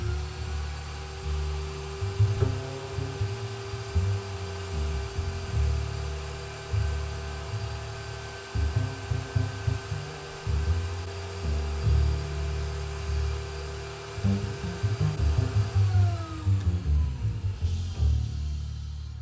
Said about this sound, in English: engage the vacuum.